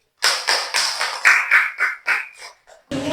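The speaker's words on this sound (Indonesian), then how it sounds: "Tepuk tangan untuk Aski" A classroom of students claps in unison for a classmate: about ten quick, evenly spaced, crisp claps that slow and fade, then a voice begins.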